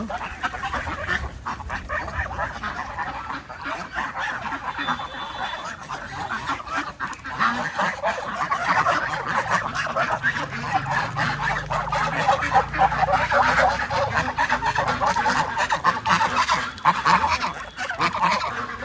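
A dense flock of ducks, including several drakes, honks and quacks continuously nearby, a steady chattering chorus with no pauses.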